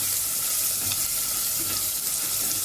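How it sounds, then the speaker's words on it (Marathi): Onion sautéing in hot oil with mustard seeds, cumin, asafoetida and garlic for dal khichdi, a steady close hiss and sizzle with faint stirring throughout and no voices. "त्यामध्ये कांदा पण आपण परतून घेऊया."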